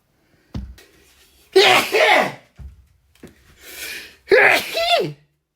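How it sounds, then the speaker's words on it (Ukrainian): A man sneezes loudly twice while cooking after adding pepper, each sneeze a sharp explosive burst preceded by a quick inhale, close to the microphone, with a short vocal sound between them. "я кожен раз, коли даю перцю, я обчихаю"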